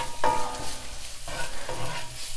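Onions frying in a hot skillet, stirred with scraping strokes over a steady, fairly loud sizzle, heard close and with no talking.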